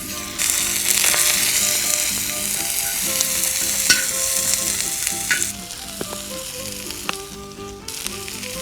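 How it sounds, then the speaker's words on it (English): Onions sizzle in oil over an open fire, a loud continuous crackling hiss with scattered pops and occasional clinks and scrapes of a utensil, close up and without speech. "We got our onions, and we're gonna put some oil"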